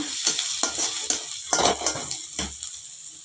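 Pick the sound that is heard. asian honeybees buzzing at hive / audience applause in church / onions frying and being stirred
onions frying and being stirred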